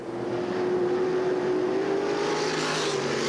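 Econo Sprint race cars in a 1991 heat race at Limaland, engines roaring loud and continuous as the pack runs past, a steady rising whine over rumbling noise with no voices.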